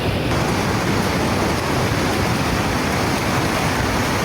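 The flooded Numo River rushes hard and fast over low ground, a loud, dense, unbroken roar of churning water heard close by with no voices.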